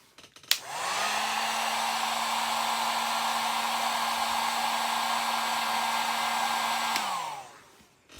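Hair dryer or heat gun blowing hot air onto an action figure part, switched on with a rising whine, holding a steady loud whooshing drone for about six seconds, then winding down, with no voices.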